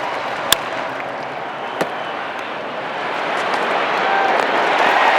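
At an NLCS baseball game, a ball strikes the base with a sharp knock, and a second, fainter knock follows. Both sit over a steady stadium crowd roar that slowly swells louder.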